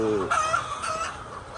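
Layer hens at an egg farm cluck in a brief burst, one bird giving a rising, drawn-out call over a busy background of other fowl.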